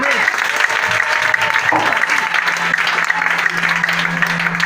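A church congregation claps and cheers for the Lord, sustained dense applause filling the whole stretch with voices mixed in throughout.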